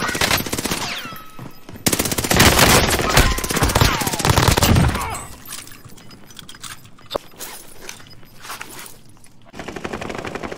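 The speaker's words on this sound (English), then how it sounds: "They're shooting." Gunfire in a video game: rapid bursts of loud automatic shots crackle close by, then thin into scattered single shots and mechanical clatter, with no one speaking.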